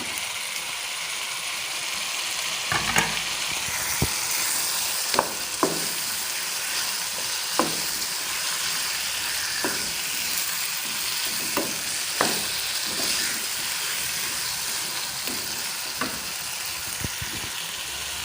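Chicken for Hyderabadi biryani fries loudly in a pan, a continuous dense sizzling hiss close by, punctuated by sharp scrapes and knocks of a spoon stirring every second or two.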